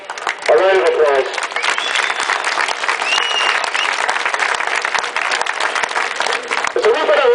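A crowd at an anti-internment rally applauds the stewards with sustained, loud clapping that lasts several seconds. A voice speaks briefly at the start and end.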